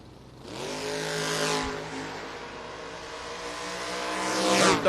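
Drag racing cars, a patriotic Nova and a Mustang, roar down the lanes at a strip, engines swelling from a distant rising rev into a loud, sustained wail that surges again at the end.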